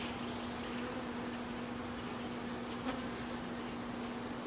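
Honeybees drone around their hive during a spring check of queen cells, a low, steady buzzing hum that stays faint and even throughout, with no talking.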